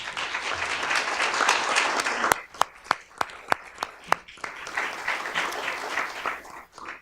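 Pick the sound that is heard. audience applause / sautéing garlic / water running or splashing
audience applause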